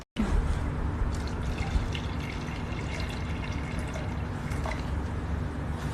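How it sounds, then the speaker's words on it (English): Water pours steadily into the inlet of a ZS630 unit, a continuous close trickle and splash that runs evenly through the whole stretch with no talk over it. "Okay, now we'll inject the water."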